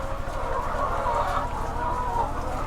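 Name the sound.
chickens clucking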